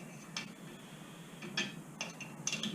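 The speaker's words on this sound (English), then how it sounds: "I'm just using the scrunch here that it came with to give it a little extra torque on this alley." Small muffler screws on a Husqvarna 440 chainsaw with a Rippa dual port muffler being tightened with a scrench, producing a few brief, faint metallic clicks and scrapes spaced apart against quiet background.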